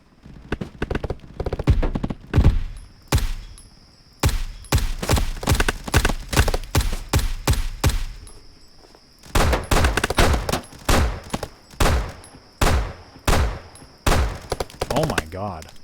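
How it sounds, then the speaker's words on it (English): Repeated bursts of gunfire from a Roblox BRM5 firefight at the embassy, an enemy shooting through a wall; loud, dense volleys and single shots in clusters with short pauses, continuing throughout the clip. "He's shooting me through the wall, isn't he?"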